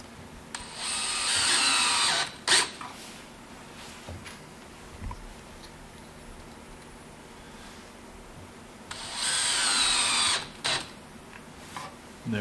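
Power drill driving square drive face frame screws into a cabinet face frame clamped to a workbench: two short whirring bursts several seconds apart, close and fairly loud, with quiet handling noise between.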